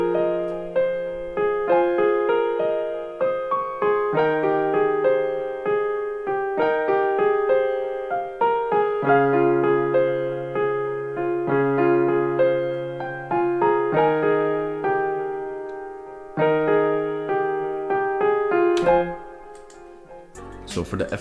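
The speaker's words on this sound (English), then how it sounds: "yeah, the piano sounds like this" Grand piano loop made in FL Studio, a smooth sustained chord progression with repeating melodic notes and soft pedal, played alone at steady tempo before a brief noisy burst near the end.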